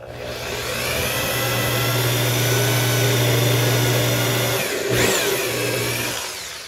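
A power drill drives a one-inch screw into a pine dresser drawer, giving a loud, steady motor whine for several seconds that dips briefly near the end before trailing off.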